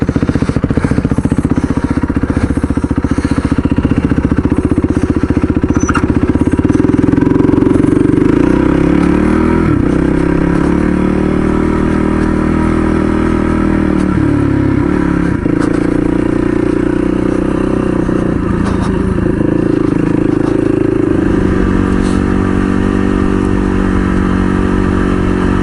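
Dirt bikes, a Yamaha WR and a Honda CRF 230, ride together on a trail with a continuous, loud engine drone that holds steady throughout, with small shifts in pitch as the bikes rev and change speed.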